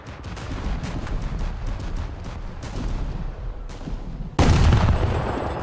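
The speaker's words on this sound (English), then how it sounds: "you have a cruiser shooting you." Cruiser gunfire in a naval battle video game: a steady run of overlapping booming shots and rumbling blasts, then a much louder, closer burst of fire near the end.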